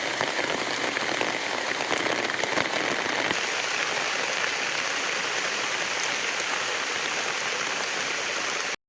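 Heavy rain drums steadily on a tent, a dense close patter of drops with no break until it cuts off abruptly.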